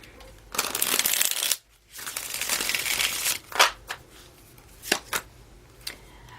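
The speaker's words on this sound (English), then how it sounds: "One more shuffle." Tarot cards being shuffled close by in two long riffling bursts, followed by a few softer taps and slaps as the deck is squared.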